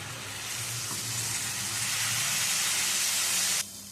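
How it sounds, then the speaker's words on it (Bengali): Spice paste sizzles loudly in a pan for a spicy pomfret fish curry as water from rinsing the mixer goes in, a dense, steady hiss that holds for several seconds and then cuts off abruptly near the end. "মশলাটা তিন চার মিনিট ধরে কষিয়ে নিতে হবে দিয়ে দিচ্ছি এর মধ্যে মিক্সার ধোয়া জল"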